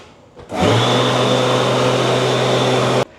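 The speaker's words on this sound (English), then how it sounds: "let's see the power of the hand dryer" An electric hand dryer in a ferry washroom roars on abruptly, blows at a loud steady whine for a few seconds, then cuts off sharply.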